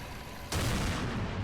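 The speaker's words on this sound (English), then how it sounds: "the Soviet artillery might be hitting their own positions" A sudden heavy boom of video game artillery fire erupts and rolls on as a sustained low rumbling roar of battle.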